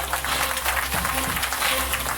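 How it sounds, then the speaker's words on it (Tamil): Applause at a function at KSR Kovai Garden in Myleripalayam, Coimbatore, welcoming a guest to the stage: dense, steady clapping from the audience, with voices faintly underneath. "நல்ல ஒரு பலத்த கைத்தட்டல் அவருக்காக கொடுக்கலாங்க."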